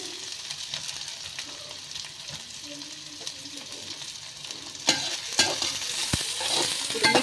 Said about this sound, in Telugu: వేసుకున్నాక అవి కొంచెం ఫ్రై అవుతాయి, ఇట్లా కదపాలి.